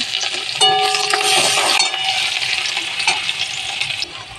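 Dry red chillies, green chillies and onion dropped into hot oil in a home kitchen, a bright crackling sizzle with sharp spitting pops at the start that settles into steady frying, close and loud with no talk.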